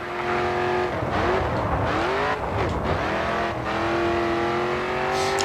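A Mustang race car in the video game GRID 2 roars steadily at high revs, engine pitch rising and falling through gear changes, with tire squeal and skidding through corners, loud and continuous with no talk.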